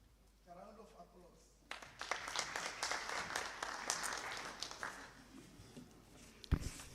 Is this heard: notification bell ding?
no